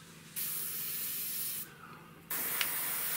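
Airbrush hissing as it sprays yellow paint onto a 1/48 scale Eduard Focke-Wulf Fw 190A-8 model kit, coming in two steady bursts with a short pause between, close and alone.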